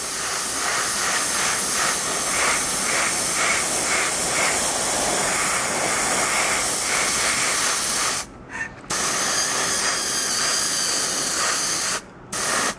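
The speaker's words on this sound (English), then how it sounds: "I'm basically going to spray it with my airbrush onto the whole miniature." Continuous airy hiss of an airbrush spraying paint onto a Space Marine miniature, steady and close, with two brief pauses where the spray cuts out.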